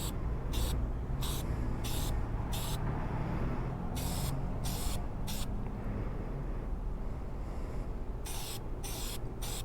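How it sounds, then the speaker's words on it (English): Filter oil sprayed onto a Harley Sportster air filter in repeated short bursts of close hissing, some quick and others longer, with brief pauses between them. "spray it around the outside and the inside of the filter"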